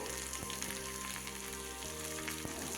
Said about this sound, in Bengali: আলুগুলোকে এরকম লম্বা লম্বা কেটে একটু ভেজে নেবো